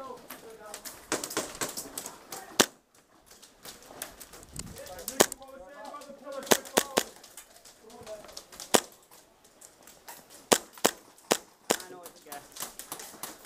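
Airsoft guns fire during an indoor close-quarters game, with scattered sharp snapping shots, some in quick pairs, spread irregularly through the clip while players talk and call out nearby.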